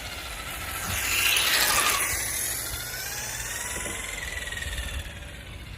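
A 1/5 scale RC Mercedes CLK GTR with its body removed idles on a parking lot, giving off a steady, moderately loud buzzing engine drone with a rising and falling whine over it.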